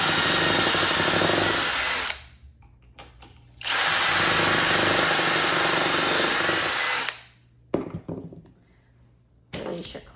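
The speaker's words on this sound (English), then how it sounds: "then you're gonna take your drill. On the end, there are 2 holes. You just stick it in there and drill" A power drill drives screws into board ends held in a clamped jig, two loud sustained whirring bursts with a pause between, followed by clunks and handling knocks.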